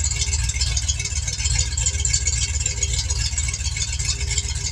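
A car engine with a Holley fuel injection system idles steadily, a deep constant rumble with a light rattle running throughout, close and loud with no voices.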